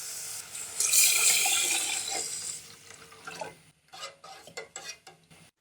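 About 1.5 litres of water rushes loudly into a pulao pot over the first couple of seconds. Then come quieter sloshing, stirring and intermittent metal clinks up close, with no voices.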